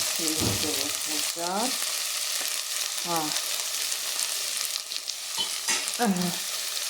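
Chopped onion, red pepper and potato fry together with dried lemon in a pan, giving a continuous sizzle and crackle. A few short rising whistle-like tones sound over it, and no one speaks.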